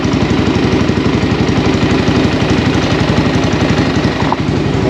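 An XPro X22 125cc motorcycle engine with an upgraded carburetor runs at a steady idle, a loud, close, rapid chugging pulse that stays even and uninterrupted throughout.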